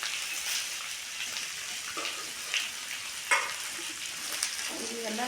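Finely chopped fresh coconut sizzles in hot oil with vegetables for soya chunks rice, making a steady close frying hiss with occasional stirring scrapes and small pops throughout.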